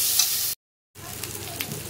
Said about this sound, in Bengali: একটু লাল করে ভেজে নেবো।